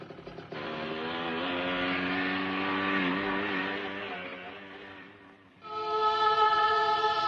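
A motorcycle engine rises and pulls away over several seconds, with its whine shifting in pitch as it fades. A brighter, sustained tone takes over at the end.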